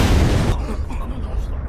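A blast in an anime fight scene, heard as a loud, broadband burst of noise that cuts off sharply and leaves a low, rumbling tail.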